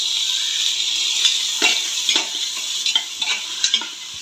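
Tomatoes fry with ginger garlic paste in a pan, a constant bright sizzle with a series of spoon stirs and scrapes growing more frequent toward the end, close and clear without talking.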